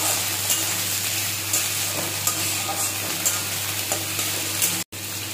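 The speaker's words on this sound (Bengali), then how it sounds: "এবার আলু আর ডাটাটা দিয়ে দেব। একটু নাড়াচাড়া করে দিচ্ছি।" Potato pieces and cauliflower stalks fry loudly in hot oil tempered with nigella seeds and dried red chilli, a steady dense sizzle with light stirring scrapes and a brief dropout near the end.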